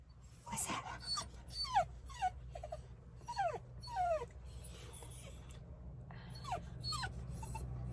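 A dog named Raven whimpers indoors in a series of soft, high, sliding whines and squeaks, close by and fairly quiet over a low hum.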